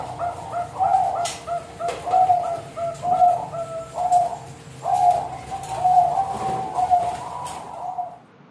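Large zebra dove (perkutut) repeating a rhythmic, bubbling coo phrase over and over, clear and close, with faint background noise and no talking.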